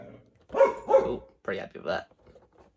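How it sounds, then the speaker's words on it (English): A pet dog barks indoors in a few quick bursts that overlap with someone talking nearby. "So sorry about my dog. He's naughty. He's barking at something."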